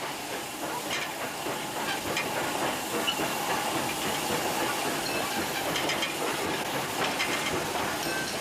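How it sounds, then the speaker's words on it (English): Steam locomotive on Indian Railways, heard as steady loud hissing steam with rail clatter and faint rhythmic clicking throughout, no voices. "with the locomotive is dying out a breed of men who had nerves of steel"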